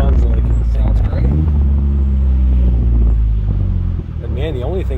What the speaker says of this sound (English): the only thing I hear is exhaust